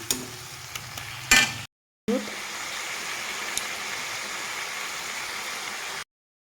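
Moong dal sautéed and stirred in a pan for a mugeswari parwal dish, a steady close sizzle with a short burst of scraping early on, then a gap before the even frying hiss resumes and runs on alone.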